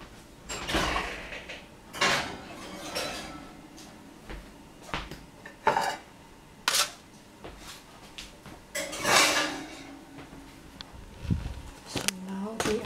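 A baking tray of biscotti made from leftover chocolate cake slides into a home oven, giving several clanking metal bumps and a door clunk at close range, in separate bursts without talk.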